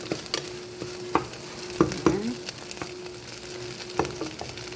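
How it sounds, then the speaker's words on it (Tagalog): Egg and vegetables frying in a pan on an electric stove, a soft sizzle under scattered scraping and clinking as the food is stirred, with a few sharper knocks of the utensil against the pan. "gusto ko yung medyo mabango ang pagkaluto ng itlog"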